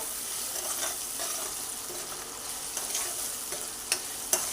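Spice masala sautéing in oil makes a continuous soft sizzle with intermittent stirring scrapes, ending in a couple of sharper clinks from the spoon against the pan; no speech.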